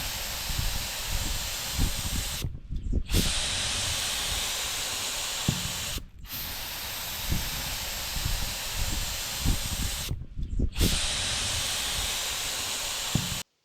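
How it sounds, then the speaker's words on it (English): Spray gun hissing steadily while painting a digger cab during restoration, a continuous loud close spray broken by three short pauses where the trigger is released, with no talk. "let's get this cab painted"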